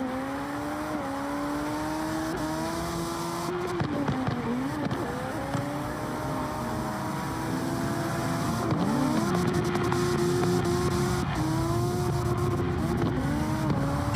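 Race cars at speed sound from a distance in a steady engine drone, with rising and falling pitch as they pass and a few sharper squeals near the middle.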